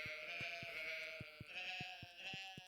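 Goats in the video game Stardew Valley give a quick run of short, regular bleats, faint and steady against a soft background tone, with no talking.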